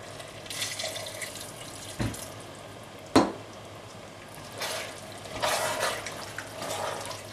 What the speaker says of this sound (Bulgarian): добавяме малко вода.